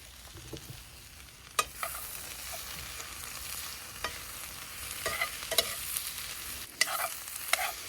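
Carne asada cooking over charcoal on a collapsible grill, a soft, low crackle and sizzle with scattered sharp pops and clicks, fairly quiet and close, no talking.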